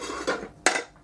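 Dishes clatter as a plate is pulled out in a home kitchen, two quick ceramic knocks close by, the second sharper and louder.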